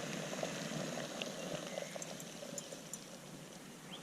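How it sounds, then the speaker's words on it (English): A pot of water on a camp stove at an overnight lakeside camp at Lake Tyres, boiling for coffee: a faint, continuous bubbling and hissing simmer with soft irregular pops, heard alone. "I reckon that's about boiled. You can hear it bubbling away."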